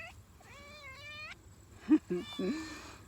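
A cat meows several times on an outdoor walking trail, a rising harmonic cry followed by shorter chirpy calls near the end, close and fairly clear over a soft outdoor background.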